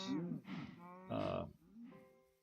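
Cows mooing in Minecraft, several separate low moos in sequence, clear and close with quiet gaps between calls.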